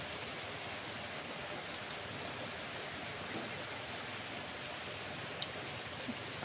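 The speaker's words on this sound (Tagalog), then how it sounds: "Kapag ganitong forma yung ulan mga ka-farm, hanggang hapon to" Heavy rain pours down steadily on a farm, a dense, even wash of falling water with a few faint drips, constant from start to finish with no voices.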